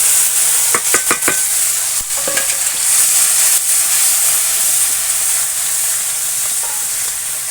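Tomato spice mix with turmeric and chili powder fries and sizzles in a pan for a pabda fish curry, a steady loud hiss with clinking stirring strokes early on and no talking.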